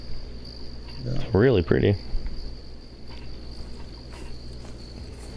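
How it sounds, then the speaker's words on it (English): Steady high-pitched cricket chirping fills a quiet outdoor ambience in the hunting game theHunter: Call of the Wild, with a brief stretch of speech partway through. "I can hear crickets and whatnot"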